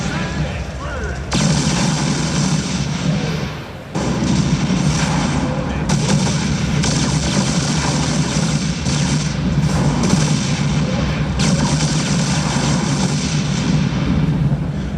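Viking fighters in StarCraft 2 firing missiles during a battle, a dense, unbroken barrage of explosions and rapid gunfire-like blasts, loud and chaotic throughout with only a brief dip.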